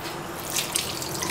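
Hands being rinsed under a running tap at a sink, a steady close splash of water with small spattering drips throughout, no voices.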